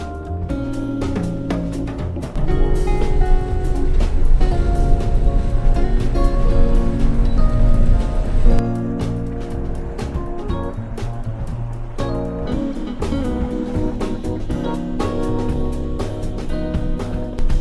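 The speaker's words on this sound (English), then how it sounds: "That was still like a pretty good little water crossing for us." A 4x4 on Cinnamon Pass in Colorado plows through a deep snowmelt water crossing, with loud continuous rushing and splashing water over the steady engine drone and road rumble, sustained for many seconds.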